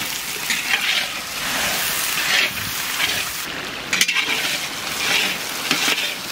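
Chopped onions with whole garam masala frying in a pan for a village chicken curry; a continuous crackling sizzle with swelling bursts and a sharp clink partway through.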